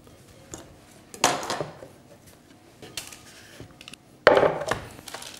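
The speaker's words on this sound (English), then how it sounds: "just break it up into pieces as you put it into the bowl" Sliced cauliflower is broken apart by hand into a bowl, giving faint crisp snaps and rustles with two louder bursts of cracking and clatter in a quiet kitchen.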